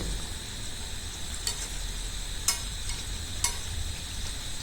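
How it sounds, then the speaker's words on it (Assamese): Duck meat simmering in hot oil in a pan, a steady close sizzle and bubbling hiss with a few faint clinks of a utensil, no talking. "তেলৰ লগত মাংসখিনি উতলিবলৈ আৰম্ভ কৰিছে।"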